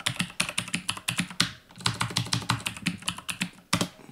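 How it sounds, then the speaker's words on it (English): Rapid computer keyboard typing, close and fairly loud, with brisk uneven bursts of keystrokes and one short pause midway, heard alone. "Why is my keyboard not behaving itself?"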